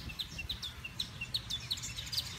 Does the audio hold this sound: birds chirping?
yes